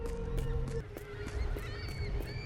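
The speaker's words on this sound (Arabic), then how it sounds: "So that's why the birds are crying." Harsh, honking bird cries at an abandoned seaside spot in a psychological horror video game, several loud calls in quick succession standing alone without speech.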